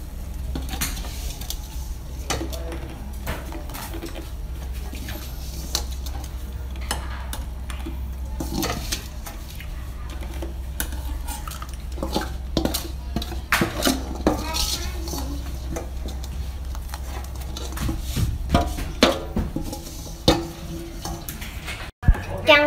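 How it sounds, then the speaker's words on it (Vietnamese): Tapioca pearls boiling in a pot of water, stirred with a utensil: steady bubbling and rumbling throughout, with clinks and scrapes against the pot becoming busier toward the end, close and moderately loud. "Nước đã sôi rồi, mình sẽ bỏ chân trâu vào để luộc."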